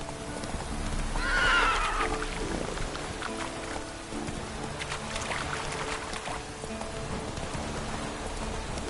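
Roach the horse gallops with rhythmic clip-clop hoofbeats and a whinny near the start in The Witcher 3, under steady falling rain, with the hooves close and continuous throughout.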